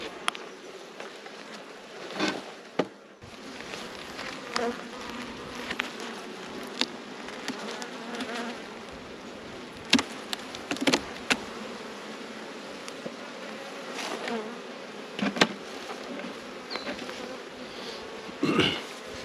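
Honey bees buzz around an open beehive during a frame inspection, a close, steady hum with individual bees zipping past the listener now and then, plus faint handling noises.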